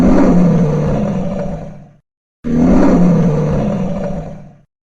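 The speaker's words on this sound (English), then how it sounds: "A lion roars." A lion roars twice in succession, each deep, rumbling roar loud and close, lasting about two seconds and separated by a short silence.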